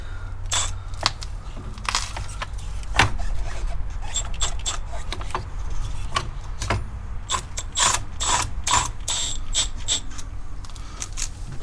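Ratcheting strut spring compressor on a front strut from a 2011-2020 Toyota Sienna, with repeated close clicking ratchet strokes and metallic scraping in an irregular rhythm.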